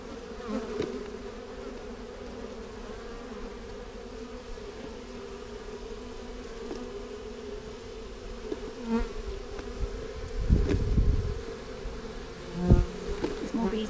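Bees in a swarm around a tree drone continuously with a steady buzz, rising louder in bursts near the end as insects pass close, with no talking.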